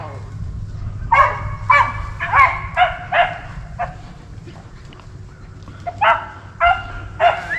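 Hunting dogs bark in repeated bursts while running rabbits on a hunt, several sharp barks and yips in irregular clusters, fairly close, with low rumbling background noise.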